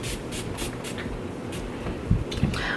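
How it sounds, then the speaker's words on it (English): Short puffs of Urban Decay De-Slick Oil Control makeup setting spray, several quick hissing bursts in a row at close range, with a couple of soft handling bumps near the end. "I'm going to go in with Urban Decay's De-Slick Makeup Setting Spray"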